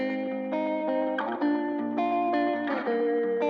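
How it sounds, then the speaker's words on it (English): Distorted electric guitar with a filtered, saturated tone, playing sustained chords and a melodic line with slight wobble and echo, no voices. "Our first one, again, is sort of that same guitar track with the filter and the tape emulation."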